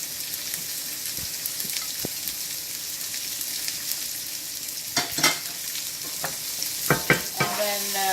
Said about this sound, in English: My oil is hot as it should be, and now it's time to add the onion.